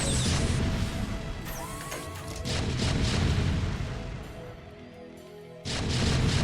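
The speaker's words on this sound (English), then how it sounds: "Man, the sound of the siege tank." A siege tank in siege mode firing in the video game StarCraft: Brood War, heavy crashing booms amid a loud, busy battle din, with another blast striking near the end.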